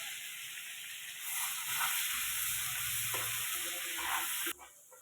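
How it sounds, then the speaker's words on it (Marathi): Onion paste sautéing in oil with butter for pav bhaji, making a loud continuous hiss with soft scraping stirs, then cutting off abruptly near the end. "कांद्याची बारीक पेस्ट केलेली ती पण आता मी तेलामध्ये टाकून घेते आणि छान अशी लालसर परतून घ्यायची आहे"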